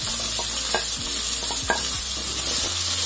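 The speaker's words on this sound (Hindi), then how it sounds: "अब मैं इसमें जो मैंने प्याज लिए थे वो बारीक बारीक मैं इसमें डाल देती हूँ" Finely chopped onions frying in hot oil in a kadai, a bright steady sizzle close up with a few sharp crackles and spoon scrapes scattered through, no voices.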